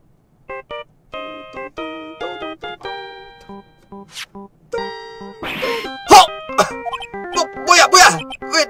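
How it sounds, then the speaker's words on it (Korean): A mobile phone ringtone in the video game Ace Attorney 2 plays a bouncy, tinny electronic melody of short beeping notes, later mixed with yelping sound effects and in-game voice bursts. "뭐야? 왜 내 전화가!"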